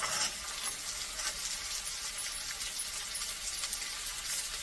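Fresh green peas fry and sizzle in a pan with tomato while upma is being made, a steady close crackling hiss with light stirring throughout.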